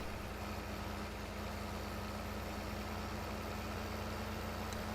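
A steady, low tractor engine drone in the video game Farming Simulator 15 idles continuously with a faint constant hum, unchanging throughout and without any voices.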